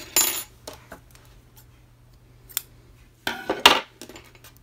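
Scissors snipping orange yarn while crocheting a striped cardigan, a few short metallic clicks and snips, close up and otherwise quiet.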